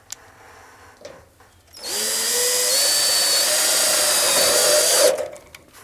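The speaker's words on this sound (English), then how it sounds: "I'll go ahead and put in a couple of screws to attach this" A power drill drives screws into a wooden frame during a dumbwaiter installation: after a few light knocks, the motor spins up loudly and whines steadily under load for about three seconds, then stops abruptly.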